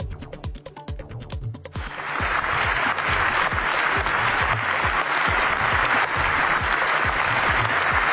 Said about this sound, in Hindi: सांसदों ने खड़े होकर जेलेंस्की के लिए तालियां बजाई।